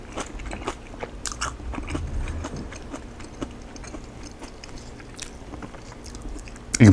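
Crunchy biting and chewing of pork belly lettuce wraps with kimchi, repeated close-up bites and mastication in a steady rhythm with no talk.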